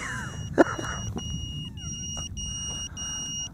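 An Eachine QX95S micro FPV racer drone's beeper sounds as a steady high-pitched electronic tone with brief pulsing accents, close and fairly loud over a low background rumble.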